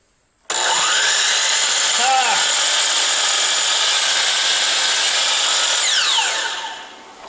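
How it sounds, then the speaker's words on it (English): A miter saw running on power from an off-grid inverter starts with a sharp burst, holds a loud, steady high whine for about six seconds, then spins down. "The inverter works, it turned on the miter saw, nothing blew up."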